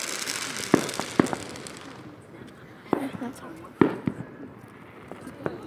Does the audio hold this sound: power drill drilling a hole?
no